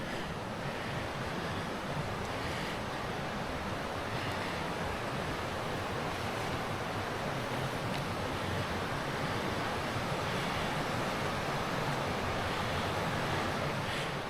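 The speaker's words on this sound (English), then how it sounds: "I love the sound of the water though" Creek water rushes steadily beside a gravel bike ride, a dense continuous wash with some wind buffeting the microphone, no talking.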